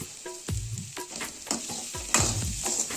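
A spoon stirs mashed raw banana mixed with salt for bonda in a pan, making close, rhythmic scraping strokes about twice a second with a faint sizzle beneath.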